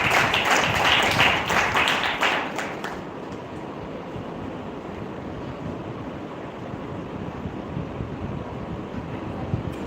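Applause for award winners at an orator-of-the-month ceremony: a loud burst of clapping for about three seconds, then it fades into a murmuring room hum.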